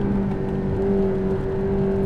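A McLaren MP4-12C engine hums at steady, fairly high revs, with a constant low drone and whirring tone running evenly and loud throughout, heard from inside the car with no talking.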